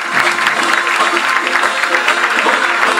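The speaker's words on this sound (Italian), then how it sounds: "se ci accompagnate con un applauso" An audience at an Italian folk storytelling and music event breaks into applause, a dense, steady clatter of many hands that stays loud and even for a few seconds.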